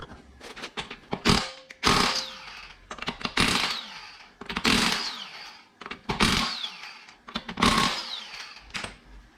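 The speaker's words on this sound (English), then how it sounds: "First, you're gonna take off your lug nuts." Power tool spinning off 21 mm lug nuts from a Genesis Coupe wheel, heard as several loud, close buzzing whirrs in repeated bursts with short pauses between them.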